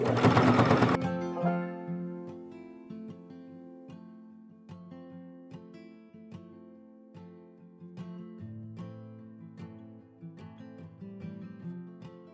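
A sewing machine runs a wide zigzag stitch through thick sheet material. After a loud start, it keeps up a steady, rhythmic mechanical whir with regular needle ticks and a few pauses and changes in speed.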